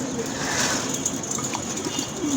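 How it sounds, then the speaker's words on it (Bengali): Pigeons in a market setting giving soft, low cooing calls close by, a continuous murmur of coos against background noise, with no clear talk. "এই যে দেখেন কবুতর এখন কিন্তু বোঝা যাচ্ছে"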